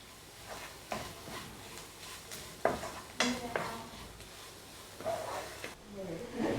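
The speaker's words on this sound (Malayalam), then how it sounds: "ഇനി അതും കൂടി ഇട്ട് കൊടുത്തിട്ട് നന്നായി ഇളക്കി കൊടുക്കാം." A spoon stirs vegetable salna curry in a pan, giving repeated scraping strokes and soft wet clatter at close range, with a faint sizzle and some background murmur.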